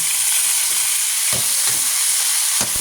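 Pancit noodles are stir-fried and tossed in a hot pan, a loud, dense sizzle throughout, punctuated by a couple of scraping stirring strokes, with no talk.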